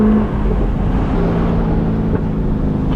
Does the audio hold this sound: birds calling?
no